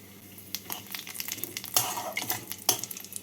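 A mixing jar is rinsed and a little water poured out while cooking paneer aloo dalna. Close splashes and sloshing mix with sharp clinks against the jar and pan, with a low sizzle underneath.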